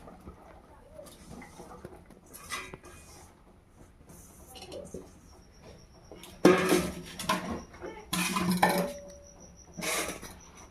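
Washed vegetables drop into a khichuri pot and are stirred in, giving scattered metallic clanks and scrapes of utensils against the pot that grow louder toward the end, with a voice talking at times.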